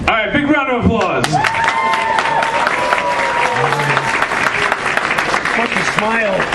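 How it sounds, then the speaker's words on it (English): At East Coast Comicon 2018 a large crowd breaks into loud, sustained clapping that runs the full length, with voices chattering underneath and over it. "big round of applause"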